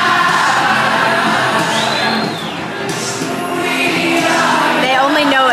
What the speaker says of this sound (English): there's a high school party here, and they all scream